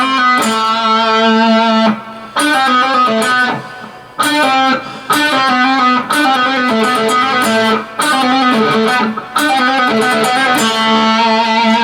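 A distorted electric guitar plays a riff with slides, hammer-ons, pull-offs and vibrato, loud and close, in repeated phrases with brief gaps between them, and no talking.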